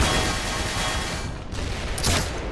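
Gunfire in the shooter game Black Mesa, a dense, loud, continuous barrage of shots with a brief sharper burst near the end, and no talking.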